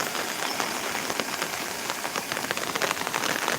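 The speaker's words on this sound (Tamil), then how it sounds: "நம்ம ஊரில் பயங்கரமாக மழை வந்துட்டுருக்கு" Heavy rain, driven by wind, pours down in a village during the rainy season, a dense steady hiss of drops pattering on surfaces, continuous and loud with no voices.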